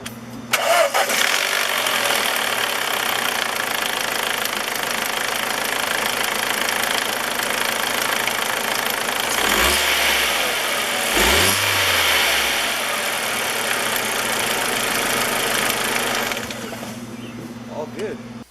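A car engine cranks and catches after a repair, then settles into a steady idle with a couple of low revving swells midway, running close and even before cutting off near the end.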